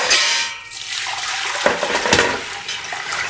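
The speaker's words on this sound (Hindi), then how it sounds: "इसके अंदर पानी शामिल कर देंगे।" Water pours steadily into a pressure cooker holding black cardamom for a mutton leg steam roast, a loud, continuous gush and splash up close.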